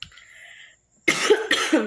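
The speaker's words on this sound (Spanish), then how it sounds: "ando un poco mal de la tos, una disculpa por eso" Two quick, harsh coughs close to the microphone after a brief quiet moment.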